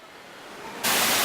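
A waterfall on a June trip through the Middle East and Europe gives off a broad rushing hiss that starts faint, then jumps to a loud, steady roar partway through as the falls come close, with no voices.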